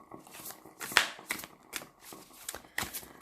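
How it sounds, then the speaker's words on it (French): Helgoliath Tarot cards shuffled and drawn by hand, a close series of crisp riffling and sliding card sounds in uneven bursts, with a few sharp snaps as cards are pulled. "c'est la coupe et donc on va sortir les 2 cartes"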